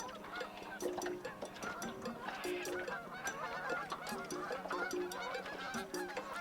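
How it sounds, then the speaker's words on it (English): A large flock of geese honking constantly near a river, many overlapping calls near and far, dense and continuous with no voices. "That flock of geese is huge."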